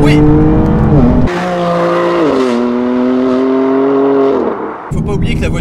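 A BMW M4 GTS engine revs hard and loud while driving, its pitch climbing and then dropping as gears change, with brief tyre-squeal harshness at the start and end.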